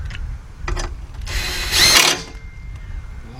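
Engine bolts on a 2006 Kia Sportage 2.7 are tightened with a power tool: short buzzing bursts followed by a louder whirring run of about a second, up close.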